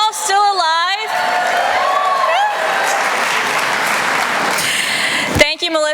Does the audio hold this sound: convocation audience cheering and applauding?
yes